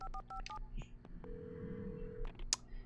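Phone keypad dialing in the video game Alan Wake: a quick series of electronic touch-tone beeps followed by a long steady tone, closing with a sharp click, heard up close with no talking.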